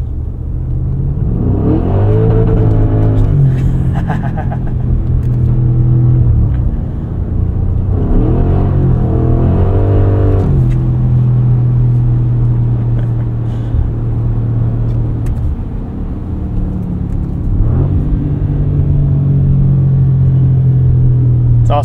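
A 2024 Audi SQ7 SUV driving on a snowy road, its engine rising and falling in several revving surges with gear changes, loud and close from inside the cabin.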